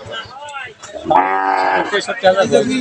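A cow at a busy cattle market gives a long, loud moo close by, rising and holding before trailing off, with market chatter and voices around it.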